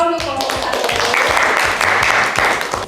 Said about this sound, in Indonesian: Tepuk tangan untuk kelompok satu.